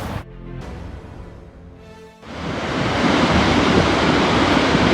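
Dettifoss waterfall in Iceland roars with rushing water, a dense broadband wash that swells up loudly after a quieter opening stretch, mixed with gusts of wind buffeting the microphone.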